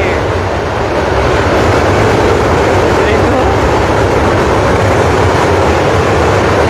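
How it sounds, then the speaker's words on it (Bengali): A Khulna–Chilahati passenger train near Hardinge Bridge roars past, close and loud: a dense, unbroken rumble of wheels and carriages with no pause throughout. "এই ট্রেন কি চিলাহাটির?"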